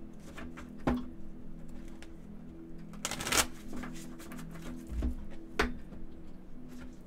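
Tarot cards are shuffled by hand at close range, a soft papery riffling and slapping with irregular louder snaps, recorded in a quiet room.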